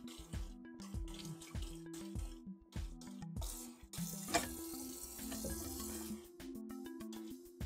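Kitchen tap running while shrimp are rinsed and peeled for shrimp stew, water splashing in uneven bursts over a steady hum with clicks and handling noises, then a fuller continuous stream near the middle, close up.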